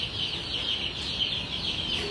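Chickens clucking among many kinds of farm birds, a steady, busy murmur of fowl with a constant hiss-like chatter running throughout and no clear single call standing out.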